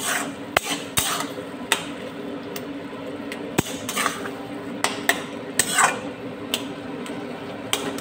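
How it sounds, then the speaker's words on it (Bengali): A spoon stirs tomatoes in a pan for a tomato and grape chutney, making steady close scraping with scattered sharp clicks and taps against the pan over a constant background hiss. "যতক্ষণ না টমেটোগুলো একটু ঘেটে যাচ্ছে, ততক্ষণ আমি এরকম নাড়াচাড়া করতে থাকব।"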